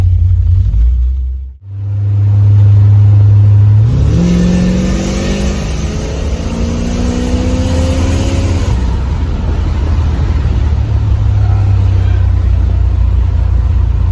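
A 1976 Corvette engine idles with a deep rumble, then revs hard at full throttle for several seconds with rising pitch before settling back to a steady idle.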